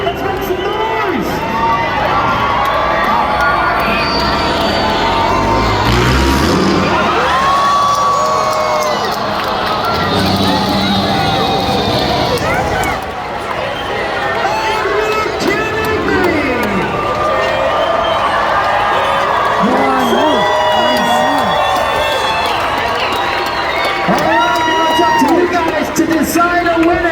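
A large crowd cheers, whoops and screams at a freestyle motocross show at the Arizona State Fair, a loud sustained roar with shrill shouts rising and falling, and an announcer's amplified voice cutting in over the noise.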